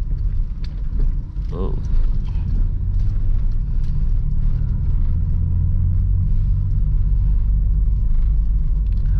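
A car eases slowly over a speed bump without using the clutch, its steady low engine rumble filling the clip with a brief bump of mechanical noise near the start.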